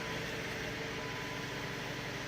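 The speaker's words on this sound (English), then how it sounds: "Running good, idling good," A Chrysler 200 engine idles steadily after a broken PCV valve repair, a smooth continuous low hum and hiss close to the microphone with no talking.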